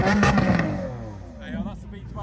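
A Lamborghini V12 engine revs loudly at a supercar pageant at Oulton Park, a strong burst rising then easing, with crowd talk and other noise mixed in.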